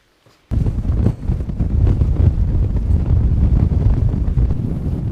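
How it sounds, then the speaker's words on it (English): Strong wind buffets the microphone in loud, rumbling gusts after a brief quiet start, a constant blustery roar with no talking, on Stanage Edge in the Peak District. "As you can probably pick up on the microphone, it's quite windy."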